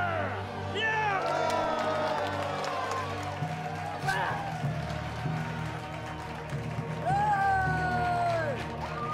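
A crowd cheers and shouts at a reenacted gladiator fight, a steady roar of voices with whoops rising over it, while a narrator speaks throughout.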